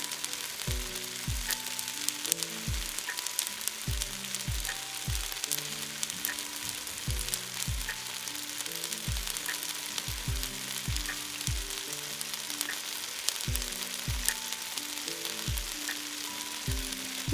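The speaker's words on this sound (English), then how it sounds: "listen to the wonderful sounds of the sizzle." Tamale ingredients sizzle and fry steadily in a pan, a constant hissing crackle with soft rhythmic low thumps underneath, close and continuous with no talking.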